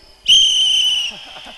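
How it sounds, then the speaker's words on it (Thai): A single sharp, high-pitched whistle is blown at a street political rally stage on Ratchadamnoen Avenue, Bangkok, holding steady for nearly a second before cutting off, followed by faint talk. "อาวุธก็เราก็มีนี่แหละครับ นกหวีด"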